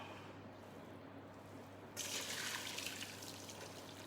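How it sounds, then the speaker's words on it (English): Hot water poured out of a Thermomix, a faint, steady trickle that swells into a fuller splash about halfway through and keeps running, with no voices. "just discard the hot water away."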